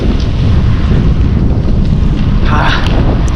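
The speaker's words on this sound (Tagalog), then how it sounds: "Grabe yung hangin, lumalakas na." Loud, steady wind roaring and buffeting the microphone during a morning bike ride, a constant low rumble with rushing gusts throughout.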